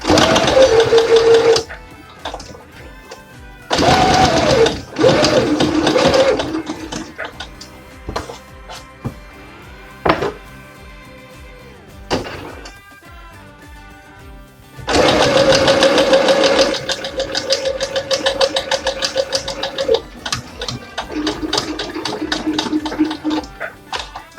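A domestic sewing machine stitches a French seam on fabric for a diaper cover, running in loud steady whirring bursts of a few seconds each, separated by quieter pauses and brief handling clicks.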